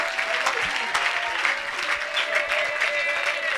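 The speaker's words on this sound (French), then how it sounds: "peux l'acclamer encore une fois dans cette salle?" A church congregation bursts into sustained applause, dense overlapping clapping with a few voices calling out, filling the hall at close range without pause.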